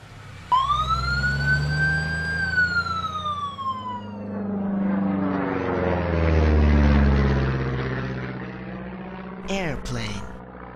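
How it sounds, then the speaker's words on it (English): An ambulance siren wails loudly and nearby, sweeping up and down before shifting into a fast warbling pattern, with a sharp burst near the end. "Ambulance."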